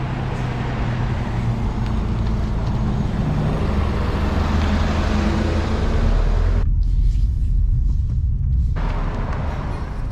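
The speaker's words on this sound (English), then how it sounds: "So that concludes the test drive of the 22B." Subaru Impreza 22B rally car on a test drive on old tires, its engine and road noise a loud, steady roar from a close interior perspective, with a brief dip in the higher rumble near the end.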